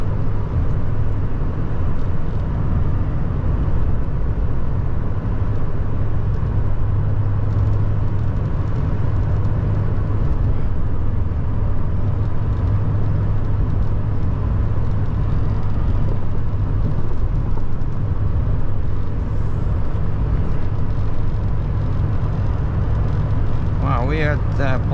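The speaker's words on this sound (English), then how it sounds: "See, what is this? F-150 Ford XLT pulling a trailer." A Ford F-150 XLT pickup truck pulling a trailer rolls by on the road, giving a steady, continuous rumble of engine and tyre noise mixed with general traffic, with a faint voice in the background.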